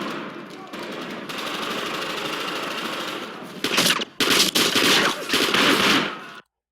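Gunfire from a movie scene in a stairwell raid, with rapid bursts of shots crowding the second half and dropping out briefly between volleys, laid over a steady rumble of background noise and some speech-like sound before the shooting starts.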